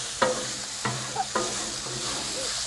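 Hibachi noodles frying on a Blackstone griddle give a steady close sizzle, with three sharp scraping strokes of a spatula spreading them flat.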